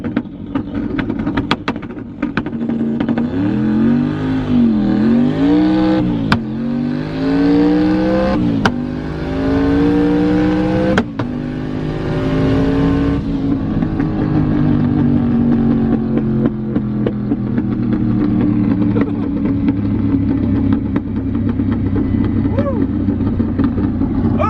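A heavily modified Corvette accelerating hard, engine note climbing through rising sweeps across several gears with sharp shift breaks, loud and close from inside the car, then easing off to a lower steady drone.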